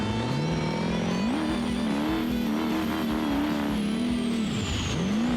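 A D-Series truck in the BeamNG video game accelerates hard in first gear in four-high, its engine note climbing and revving loudly and continuously before dipping briefly and rising again.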